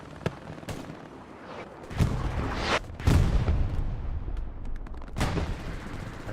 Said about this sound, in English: Artillery landing close as well.